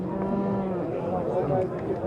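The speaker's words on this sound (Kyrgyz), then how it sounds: "О, мындан да бир өтө чоң бунажын уй турат." A cow moos steadily amid the bustle of a cattle market, its low sustained calls close and prominent over a constant background of crowd noise.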